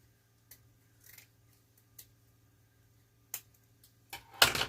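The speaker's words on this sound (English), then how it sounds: "get as close as I can to that pipe cleaner and cut off this" Scissors snip a yarn tail close to a pipe cleaner on a candy cane wreath: a few sparse, near clicks separated by quiet, ending in a louder cluster of snips.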